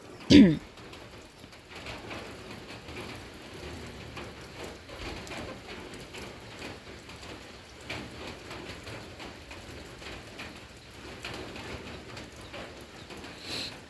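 Steady rain falling, a soft continuous hiss with faint pattering throughout, preceded by a brief thump at the start.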